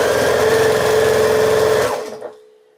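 Close and loud, a sewing machine hums steadily while stitching quilt star blocks, then winds down and stops after about two seconds with a brief mechanical clunk.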